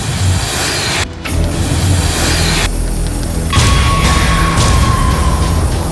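A car drives steadily with a continuous low engine rumble and road noise, briefly dipping before a higher whine rises toward the end; no one speaks.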